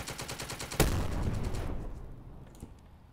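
Wargame video game gunfire set in a Normandy battle at Tilly-sur-Seulles: one loud sharp shot crack over a rumbling burst of fire that decays into a fading tail with a faint later pop.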